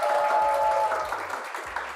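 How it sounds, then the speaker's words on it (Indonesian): Studio audience applauds at a talk show with Nirina Zubir and Vino G Bastian, a steady broadband clatter of many hands lasting the full two seconds and thinning slightly toward the end. "Boleh tepuk tangan dong sekali lagi."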